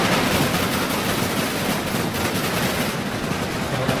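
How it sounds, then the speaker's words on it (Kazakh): Dense, continuous rapid gunfire from a John Wick shooting video game, loud and unbroken for the whole stretch with no speech. "Міне, мына жақта да атысы отыр."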